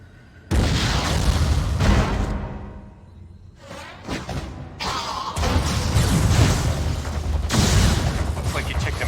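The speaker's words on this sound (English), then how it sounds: "Why not say hello with a missile?" Missile blasts in Metroid: Other M, with a loud explosive boom and rumble breaking in suddenly, a brief quieter gap with a whooshing sweep, then more sustained heavy blasts.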